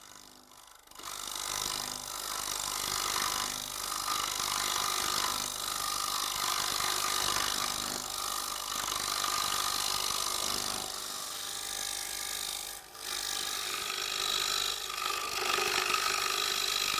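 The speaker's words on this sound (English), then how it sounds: "we are using the round shaped tungsten carbide cutter" Woodturning on a TurnMaster with a round tungsten carbide cutter shaping a bowl, a continuous harsh scraping hiss over the lathe's drone, close and steady with brief dips where the cutter lifts off the wood.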